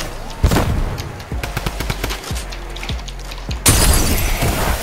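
Rapid gunfire from a Fortnite match, a cluster of sharp cracks and bursts at close range with one heavy blast near the end, loud throughout with no talking.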